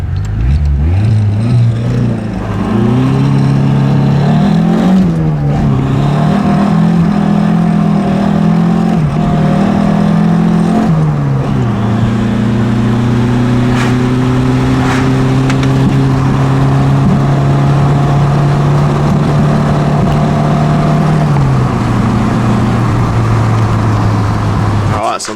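A Ford TX5 Turbo engine drones steadily while driving, its pitch shifting up and down through gear changes, loud and continuous throughout.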